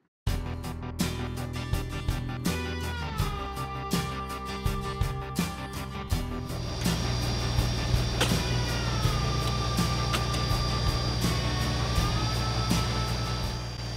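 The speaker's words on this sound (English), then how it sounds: "Hydraulic cylinders moving and just this tractor digging and all it does." A Kubota BX25D compact tractor digging, its engine droning steadily while hydraulic cylinders whine and shift pitch, with rhythmic clunks early on and a fuller, louder run in the later part.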